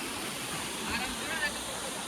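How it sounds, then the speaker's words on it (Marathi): A rain-fed waterfall roars as a steady, broad rush of falling water, constant and fairly loud throughout, with faint sounds of people at the site mixed in. "इथं पाऊस पडला जाम भारी असं धबधबा येतोय."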